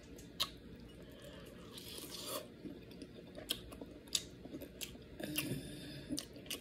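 Close-up eating of lobster tail dipped in spicy Smackalicious sauce, with wet chewing, crunching and squishing bites plus brief cracking and rubbing noises at an irregular pace, fairly quiet and without speech.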